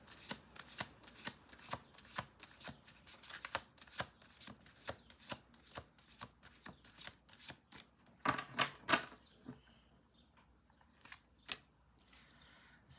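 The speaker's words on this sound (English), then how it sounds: "Last shuffle." Playing cards being shuffled: rapid bursts of crisp flicking clicks, repeated in quick rhythmic runs, close and fairly quiet, ending with a few scattered taps.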